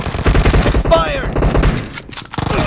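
Rapid bursts of video game gunfire from a team match crackle loudly in close repeated volleys, with a few voice fragments and game sounds mixed in.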